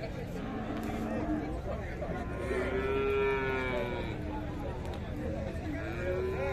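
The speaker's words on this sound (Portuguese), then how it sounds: "Boi meio brabo aí." An ox moos at a busy cattle fair in Buíque, Pernambuco, with long drawn-out lowing calls rising over the crowd's babble and general livestock commotion, fairly close and repeated across the clip.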